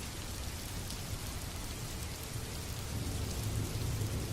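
Rain pouring down steadily, a dense even wash of drops on surfaces, moderately loud and close with no voices, swelling slightly toward the end.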